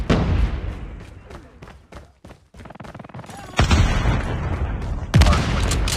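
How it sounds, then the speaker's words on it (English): A frag grenade goes off in the mobile shooter Call of Duty Mobile amid gunfire, with a burst of rapid shots, then two heavy booming blasts with rumbling tails during a hardpoint match. "Frag out!"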